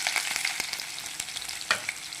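Onion pieces and curry leaves fry in hot oil with spluttering mustard and cumin seeds for a ridge gourd and moong dal curry: a close, steady sizzle with sharp pops and a brief louder crackle, no speech.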